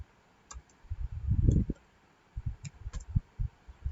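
Keyboard keys being tapped while writing Python code, sparse faint clicks in short irregular clusters against low background noise.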